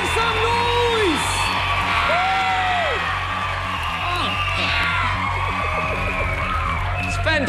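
A Singapore Idol studio audience cheers, whoops and yells in a continuous loud roar, with rising shouts and screams standing out from the crowd noise throughout.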